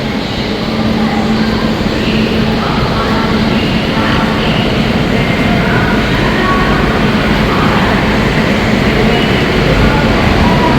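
Aboard the 22202 Sealdah Duronto Express running from Puri to Sealdah in a 1AC coach, a constant loud rumble and rattle of the train fills the carriage with no break.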